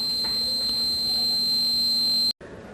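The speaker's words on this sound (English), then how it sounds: "the buzzer start on and the alarm on the device" A water-level alarm buzzer on a student science project device sounds as a loud, steady, shrill electronic tone that holds unbroken for over two seconds, then cuts off abruptly.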